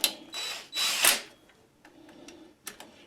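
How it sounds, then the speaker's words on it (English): A power tool run at low speed drives down bolts on a Toro snowblower during a DIY repair, giving a few short whirring bursts near the mic with brief gaps between them, then a couple of faint clicks. "I'm just going to run these down lightly with the zippy tool here till they touch"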